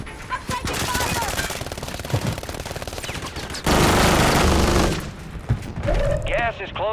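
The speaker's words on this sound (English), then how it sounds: "I'm taking fire!" Gunfire in the video game Modern Warfare 3 comes as rapid automatic bursts, with a loud dense volley in the middle. In-game voices and radio chatter come and go around the shots.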